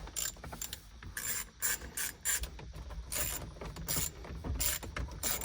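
Ratchet wrench clicking as it loosens 10mm bolts on the back of a Mazda NA Miata steering wheel, with bursts of rapid close ratcheting and brief pauses, no talk.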